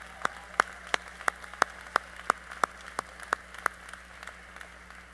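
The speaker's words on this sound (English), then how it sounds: "That gets a round of applause." Evenly spaced single hand claps ring out at a college commencement ceremony, about a dozen sharp claps in a steady rhythm, fairly faint against a quiet room hum.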